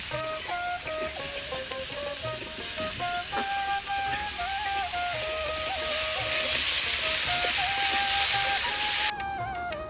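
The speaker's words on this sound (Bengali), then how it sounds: "এখানে কাল কুমড়া কষানো হচ্ছে" Black pumpkin sautéing in a pan for a home-style hilsa curry gives off a loud, steady sizzle and crackle that runs unbroken throughout, close to the listener.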